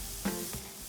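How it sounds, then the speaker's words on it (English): Mushrooms with sea salt sautéing in a pan over medium heat: a soft, quiet sizzle with a couple of brief stirring scrapes, faint and even, with no voices. "add in your mushrooms with a bit of sea salt on medium heat and let them sweat a bit"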